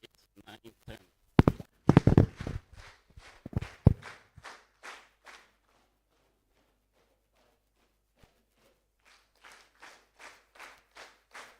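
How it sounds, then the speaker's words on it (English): A group stamps its feet in a rhythmic series of heavy thuds, then claps in sharp, even beats, the claps gradually thinning out. A pause follows, then a softer run of rhythmic claps at the end. "we stamp our feet 8 times, and then we clap 7 times"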